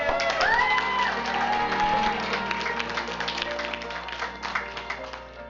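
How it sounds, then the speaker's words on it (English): Audience at a school district board meeting clapping and cheering for a teacher receiving an education award, with whoops and a rising shout early on, the clapping thinning and fading toward the end. "Can we all clap?"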